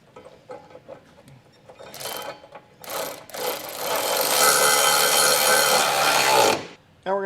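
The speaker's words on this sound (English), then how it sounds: "Now I'm going to go ahead with an 11/16 socket and just snug this up." A ratchet with an 11/16 socket snugs the nuts on a Curt trailer hitch being fitted to a 2019 Chevrolet Cruze. A few short close clicking bursts lead into a longer, steady run of rapid ratcheting that stops abruptly.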